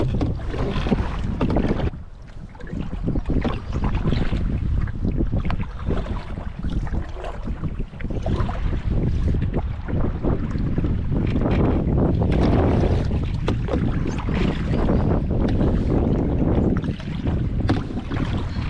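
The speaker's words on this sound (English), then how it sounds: "Pretty strong headwind right now" A strong headwind roars across the microphone while a canoe is paddled through Canadian wilderness waters. The wind is loud and continuous and buffets heavily, with water sloshing against the hull underneath.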